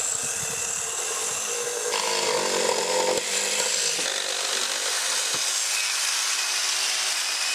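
A power saw cuts holes through a wooden cabinet in a vintage Shasta camper trailer, a steady loud whine of blade through wood that shifts pitch as the cut progresses, close up with no talking.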